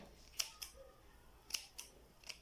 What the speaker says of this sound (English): So ensure you trim all the thread.